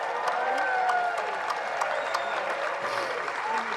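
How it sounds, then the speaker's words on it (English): A crowd at an outdoor rally in Alameda Park, Santa Barbara, applauds steadily, dense clapping mixed with a few cheers and whistles, filling the whole moment at an even level. "Give them a big round of applause"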